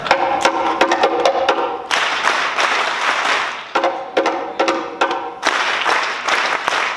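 An audience claps in a rhythm exercise at a lounge event, alternating sections of sharp distinct slaps or claps with bursts of fuller group clapping, loud and close, no speech.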